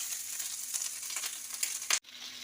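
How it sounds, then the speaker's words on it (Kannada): Onion sizzling in hot oil with mustard seeds and cumin in a pan for a bottle gourd gravy, a steady close frying hiss with small crackles, briefly cut off near the end. "ನೋಡಿ, ಈರುಳ್ಳಿ ಹಾಕ್ಕೊಂಬಿಡೋಣ."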